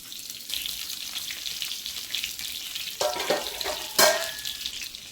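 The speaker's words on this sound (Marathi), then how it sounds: "आपण आता याला तव्यावर फ्राय करून घेऊया." Stuffed bitter gourds sizzle and fry in oil on a tava, with a steady crackle throughout and two sharper, louder spits of hot oil near the end.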